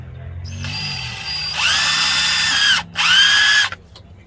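A power drill whines up to speed, drilling a small 3/16-inch hole during valve cover work on a 2012 Ford Fusion, in two loud bursts with a brief pause between, rising and falling in pitch.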